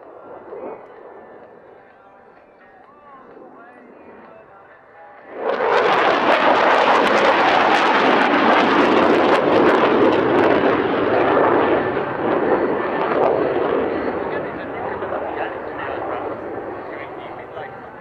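A Dassault Mirage jet roars in at an air show, starting from a quieter background hum and swelling abruptly into a loud, sustained, crackling blast that holds steady and then eases slightly as it passes.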